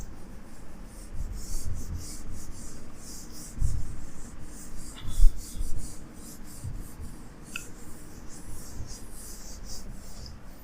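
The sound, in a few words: erasing writing from a board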